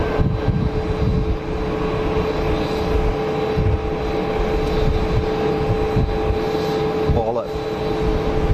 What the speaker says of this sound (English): Big old Emirates triple.